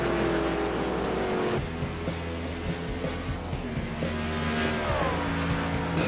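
Race cars circle under caution at Watkins Glen, a steady droning of engines with occasional shifting revs, close and continuous without talk.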